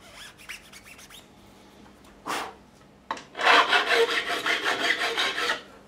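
A file scrapes burrs off the fret ends of a 2008 Fender Telecaster: a few quick light strokes, a couple of separate swipes, then a rapid run of close, rhythmic rasping strokes.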